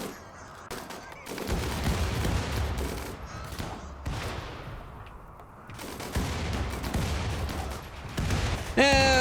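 Turrets in a grasslands survival video game fire repeatedly at enemies, a loud run of automatic gunfire that comes in long bursts with short pauses between them. A voice speaks briefly over the shooting.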